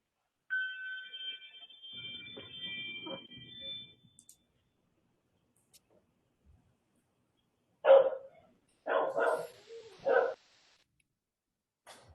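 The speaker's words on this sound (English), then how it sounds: "my dog is going wild" A pet dog barking indoors during an online meeting, several loud close barks in two clusters after a stretch of quieter background noise.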